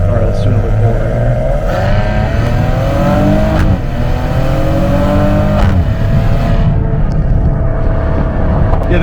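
Maserati Ghibli with its Ferrari-built V6 pulls hard under full throttle, the engine note rising steadily and loud throughout with brief shifts, heard close from inside the cabin.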